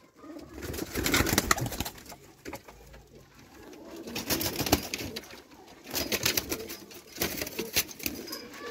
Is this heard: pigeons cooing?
yes